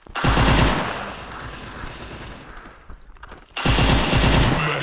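An AK5 rifle in the Maskgun FPS shooting game fires loud, rapid bursts of automatic gunfire, a sustained volley, a brief pause, then another heavy burst close up.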